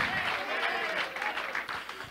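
Church congregation applauding at a youth service, a dense steady wash of clapping hands filling the room, moderately loud, with a voice speaking over it.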